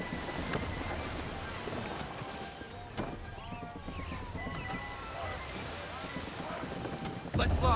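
Wind rushing steadily while sailing a ship in Assassin's Creed III, a continuous breathy roar with creaking and water sloshing beneath, as voices talk and shout over it.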